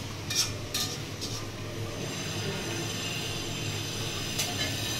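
A fish and potato curry sautés in a pan with a steady, broad sizzling hiss, moderately loud and continuous, with a few brief scraping stirs near the start and again at the end.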